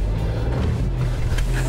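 A 2024 Isuzu D-Max pickup with diff lock grinds steadily over rough off-road ground, its engine giving a constant close low rumble with a broad wash of road and tyre noise on top.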